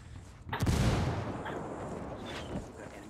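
A grenade blast in Ghost Recon Wildlands, a single loud, close boom with a sharp onset and a long rumbling tail, followed by a smaller report near the end.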